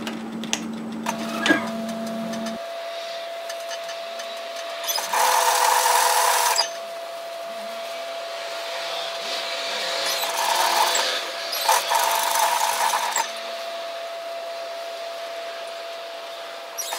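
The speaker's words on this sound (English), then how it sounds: "So we're going to sew around the pocket at a 1 centimetre 3/8 of an inch seam allowance." A sewing machine stitches around a robe pocket in short bursts separated by pauses, close and moderately loud, with faint ticking and handling sounds between runs and no talking.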